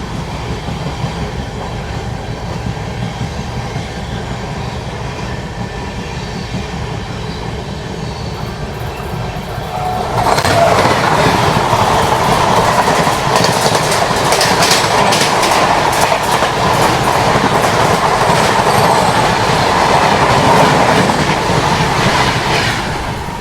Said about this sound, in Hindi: तो ये सामने से ये आ रही है चंडीगढ़ पाटलिपुत्र एक्सप्रेस।